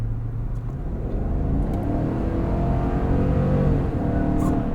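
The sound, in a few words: 2023 GMC Yukon Denali 6.2 liter V8 engine accelerating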